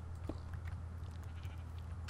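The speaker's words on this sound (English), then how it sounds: "A sheep fell in our trap." A Minecraft sheep bleats once near the start, short and clear, over a steady low background hum of in-game ambience.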